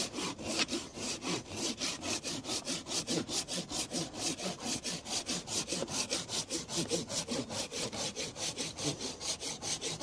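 A water-dipped hand saw cuts through an apricot blossom tree trunk in steady, rhythmic back-and-forth strokes, close and continuous.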